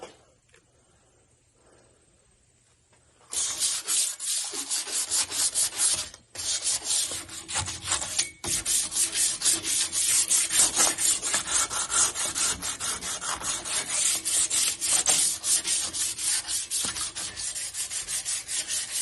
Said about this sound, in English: Kind of a tedious job sanding on headers.